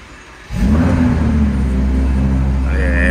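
A Lamborghini Huracán engine fires up abruptly and settles into a loud, steady, deep rumble with a rising rev near the end, close by and alone with no talk over it.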